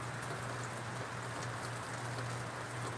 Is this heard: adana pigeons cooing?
no